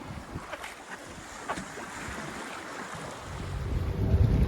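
A sailboat with a full sail heeling along at about five knots in eight knots of wind off northern Australia: steady wind rush and hull water noise, with wind buffeting the microphone and a swelling wash of water growing louder toward the end.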